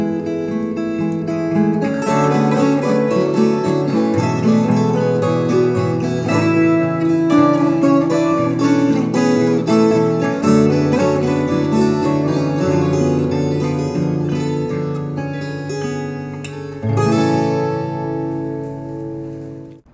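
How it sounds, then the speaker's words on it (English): Layered guitar parts, low and higher lines stacked together, play a dense, loud chorus section of a song, sustained and continuous, ending abruptly. "together, this chorus section on the guitar sounds like this."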